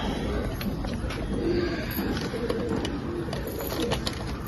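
Pigeons coo softly inside a loft holding a large collection of pedigree birds, low repeated calls rising over a steady ambient hum, with a few brief clicks and rustles throughout.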